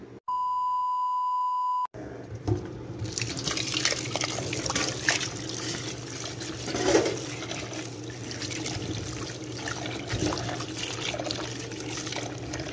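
Tap water running steadily over raw chicken being washed, close and even with light splashing, after a short electronic beep tone at the start.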